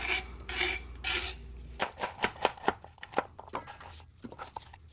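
A knife blade scrapes the skin off a vegetable for beef stew in a series of short, rhythmic rasping strokes, close and fairly quiet, after a brief softer rustle.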